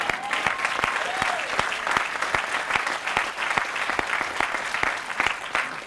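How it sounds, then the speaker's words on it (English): Outdoor audience at a groundbreaking ceremony applauds steadily, a dense patter of many hands clapping with scattered sharper claps and faint voices underneath. "give a big round of applause to the Chester River"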